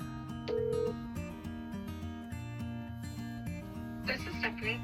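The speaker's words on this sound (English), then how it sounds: "We are returning a phone call from our agency right now." Telephone dialing to return a call to an agency, with a run of short tonal beeps and ringing, followed by faint voices near the end.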